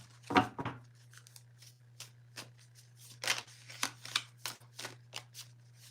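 Tarot cards being shuffled by hand, a run of crisp riffling and flicking bursts, close and fairly quiet, with a steady low hum underneath.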